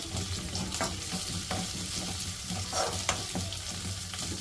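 Green chillies and curry leaves fried for a vegetable dum biryani crackle in a pan under an even, loud sizzle, while a utensil scrapes and stirs in uneven strokes up close, with no voices.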